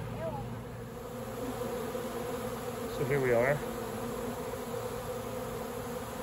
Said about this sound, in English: we are sitting in a wild swarm coming into one of my swarm traps here at my house